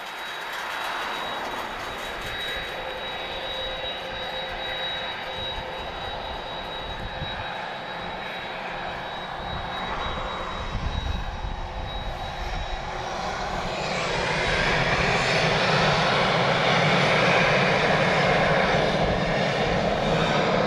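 A Ryanair jet departing Lisbon Airport for Rome rumbles at a distance at first, then its engine roar builds into a loud, sustained takeoff thunder over the last several seconds.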